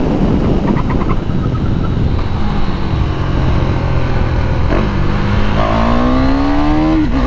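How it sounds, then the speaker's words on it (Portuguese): Single-cylinder KTM 390 Duke motorcycle engine revving, loud and close, a steady drone that climbs in pitch in rising sweeps toward the end. "Que motinha gostosa! E gira bem, viu? Por ser um monocilíndrico."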